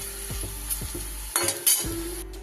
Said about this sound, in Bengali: উচ্ছেগুলো আমার লাল লাল করে ভাজা হয়ে গেছে